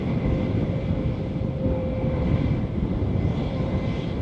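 A Boeing 767 airliner rumbles steadily at Edinburgh airport, a loud sustained engine roar with a faint whining tone, heard alone and fairly close.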